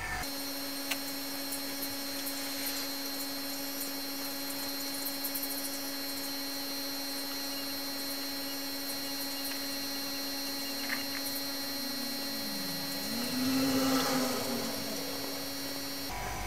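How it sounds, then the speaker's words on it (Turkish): A refrigerator compressor motor runs steadily as it builds air pressure, a constant close electric hum with a faint whine and no talking. "bizim motorumuz buzdolabı motoru olduğundan dolayı basıncımız yavaş yavaş yükseliyor"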